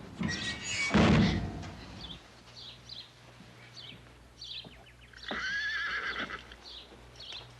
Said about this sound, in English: Whoa, you mean old devil horse?